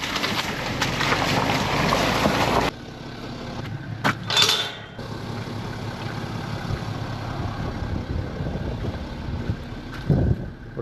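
Boat engine and wind rumble steadily across a Scottish loch, with loud gusts buffeting the microphone near the start and a brief thump toward the end.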